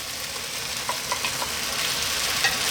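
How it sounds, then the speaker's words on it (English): Cooked pasta drops into a pan of creamy tarragon garlic sauce with chicken and zucchini, raising a steady close hiss of sizzling with a few soft clinks and stirring knocks. "I'm now going to drop in our cooked pasta of choice."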